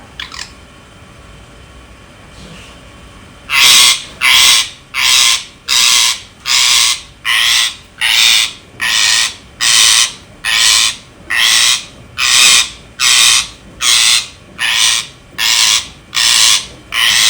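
A pet parrot squawks and whistles in a long run of about fifteen loud, evenly spaced calls, close and steady, after a short quiet start.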